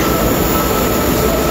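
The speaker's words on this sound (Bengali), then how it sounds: "ওই যে চলে আসলো, ওই যে ট্রেন, এই যে ট্রেন।" A Dhaka Metro Rail (MRT) train pulls into the station with a loud, steady rumble and a high wheel squeal running throughout, with no voices.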